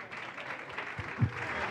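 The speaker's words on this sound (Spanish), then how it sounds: "Fuerte el aplauso" Applause from a festival audience at a singing competition final in Uruguay greets a singer: a soft, steady wash of many hands, fairly distant and low in level, with a couple of brief louder knocks.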